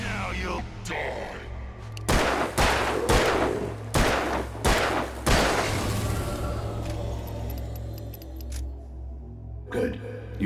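Gunfire from the video game Alan Wake: a rapid series of about six loud, close shots in the first half, followed by a fading reverberant tail and one more shot near the end, over a low steady hum.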